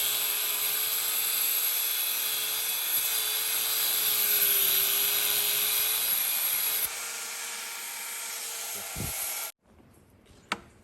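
A power cutting tool grinds steadily through the wheel bearing ring on the axle of a Ford 8 inch rear end, a loud continuous whine that drops once in pitch and stops abruptly, followed by a brief clunk.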